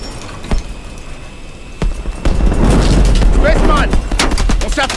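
Heavy gunfire and explosions in the video game Call of Duty Advanced Warfare: scattered sharp bursts at first, then a dense, loud, continuous roar of firing and blasts with chattering crackle over the top.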